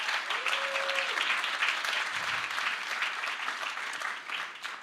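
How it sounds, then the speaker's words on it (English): An audience at a startup showcase event applauds the founders of four startups in a sustained round of clapping that holds steady and then slowly tapers off toward the end. "So can I get a round of applause there?"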